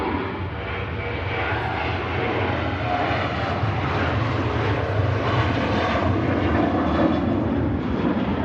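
A Boeing 737 jet departs Manchester for Tenerife, its engines a steady, fairly loud rumbling roar with a broad rushing texture that holds evenly through the whole stretch.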